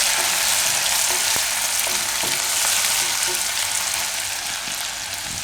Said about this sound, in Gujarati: થોડીક વાર આ રીતે ચલાવી લેવાનું.